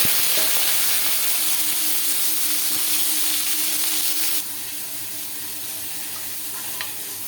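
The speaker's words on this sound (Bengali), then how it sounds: "কড়াইতে রিফাইন্ড অয়েল গরম করে নিয়েছি। উচ্ছে ভেজে নেব।" Bitter gourd slices fry in hot refined oil in a wok with a loud, steady close-up sizzle and hiss that drops to a softer crackle partway through, with no talking.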